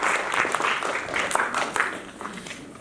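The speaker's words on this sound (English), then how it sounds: "please, can I ask all of you to give a massive round of applause to all the committee members." A community gathering in Swindon applauds its committee members, a full, continuous round of crowd clapping lasting the whole stretch at moderate loudness, no voices over it.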